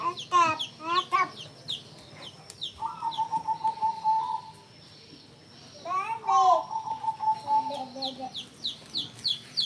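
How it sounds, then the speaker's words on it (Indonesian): A chicken clucks and squawks loudly up close in two rapid bursts of calls separated by a short quiet gap. "Bebek. Bukan bebek itu ayam."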